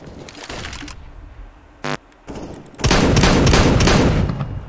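Shotgun blasts in CS:GO, a short sharp report followed by a loud, dense run of close gunfire that carries on to the end, with no talking.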